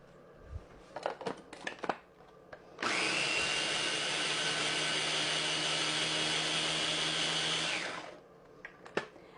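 A food processor runs in a kitchen with a steady high whirring drone lasting about five seconds, framed by a few brief clicks and knocks before and after.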